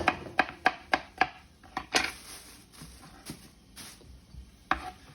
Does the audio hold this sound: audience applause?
no